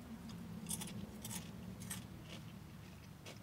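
Crisp, airy vegan seed crackers (Keto Ella's Flats, cumin-flavoured) are bitten and chewed, giving several short, faint crunches spaced irregularly over a quiet background.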